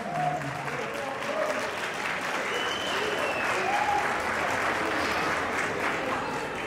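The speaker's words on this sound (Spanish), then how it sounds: "Un fuerte aplauso para Juan Carlos," Sustained audience applause at a wedding celebration, dense clapping mixed with cheers and a few whistles, fairly close and steady from start to finish.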